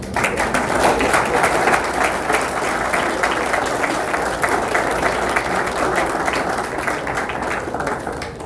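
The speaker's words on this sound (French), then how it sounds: "Je pense qu'il faut applaudir." A crowd gives sustained applause after a French-language speech on diplomacy, with thick continuous clapping that holds at a loud, even level throughout.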